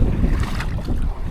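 Steady wind gusting hard against the microphone outdoors at a beach in Magsaysay, a continuous low rumbling roar with a faint wash of water beneath it.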